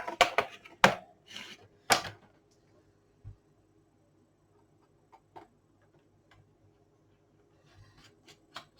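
Small screwdriver backing screws out of a MacBook Pro 15-inch Late 2013 (A1398) case: a quick burst of sharp close clicks and scrapes at first, then sparse faint ticks in near silence.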